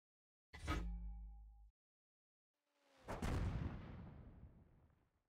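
Artillery fire in a video game: two heavy booming blasts, the first short and sharp, the second bigger, rolling and slowly decaying, with nothing else between them.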